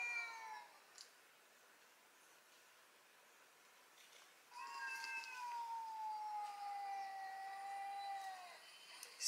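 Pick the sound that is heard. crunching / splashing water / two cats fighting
two cats fighting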